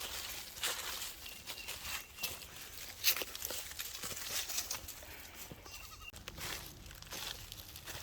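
Two baby goats bleating several times in high, thin cries, with rustling and light footsteps on leaves in the woods nearby.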